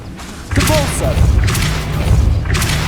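Depulso spell impact in Hogwarts Legacy: a loud, dense thudding burst with booming low rumble and bright crackle, swelling in repeated waves over about two and a half seconds, with faint whooshing tones under it.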